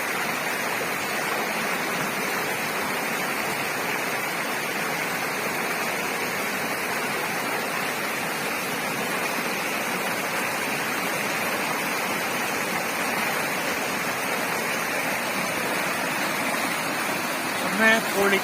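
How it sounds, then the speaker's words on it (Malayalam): The Punoor river current rushes loudly and steadily nearby, a continuous broad roar of churning water with no pauses. "വെള്ളത്തിന്റെ കുത്തൊഴുക്ക് കാരണം നമുക്ക് അങ്ങോട്ട് ഇറങ്ങാൻ പോയി നമ്മളെയും കൊണ്ട് പോവാണ്"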